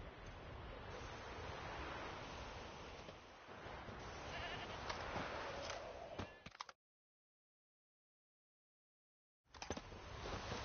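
Goat staked out as forktail bait in The Witcher 3, bleating repeatedly against windy outdoor ambience and a wash of background noise, with a sudden dropout into silence before the scene resumes.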